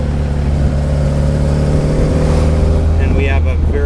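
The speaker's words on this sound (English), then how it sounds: "Just kind of hear that throaty growl" A 1960 Bugeye Sprite with side-draft Webers, K&N air filters, hot exhaust header and big-bore exhaust, its engine giving a loud, steady, throaty growl up close while driving, with someone talking over it.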